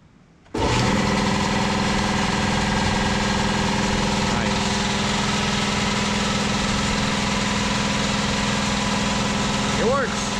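A Kobalt 80 gallon air compressor kicks on abruptly and runs with a loud, steady motor drone and vibrating hum, continuing evenly nearby with a slight swell near the end.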